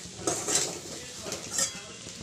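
Potato and spring onion being stirred in a pan, a few light metallic clinks and scrapes of a utensil against the pan over a soft frying background, close and quiet.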